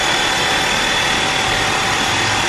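A Xiaomi portable air compressor runs continuously, used to reinflate a punctured motorcycle tire on a road trip, a loud, steady mechanical drone with a constant whine, close up and alone.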